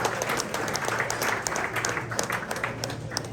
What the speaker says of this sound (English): So let's give Brett a round of applause.